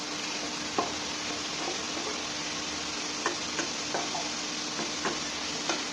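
Cabbage sizzles steadily in hot spiced oil in a pan, with a continuous frying hiss and occasional sharp scrapes and clicks of a spatula stirring it, no talk.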